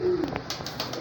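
High flyer breeder pigeons coo close by, a short low throaty coo followed by soft rustling and faint chirps, with no talk.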